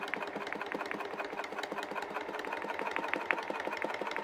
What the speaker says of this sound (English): I'm just doing that top stitch